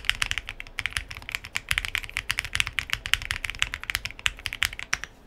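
Rapid typing on a Choice65 budget custom mechanical keyboard with a silicone dampening pad between plate and top case gives dense, steady, deep-toned key clacks, close and continuous without speech.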